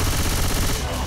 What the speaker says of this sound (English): It's like I'm shooting pellets at them.